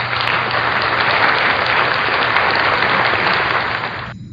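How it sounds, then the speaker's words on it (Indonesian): A crowd applauds for group 3 during a classroom teaching session, a dense, steady clapping that holds strong for about four seconds and then cuts off abruptly. "Kasih tepuk tangan yang meriah untuk kelompok 3."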